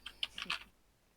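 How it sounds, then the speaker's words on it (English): Fingers tap a computer keyboard in a short, uneven burst of about five crisp, close keystrokes, followed by quiet. "Your typing is fine."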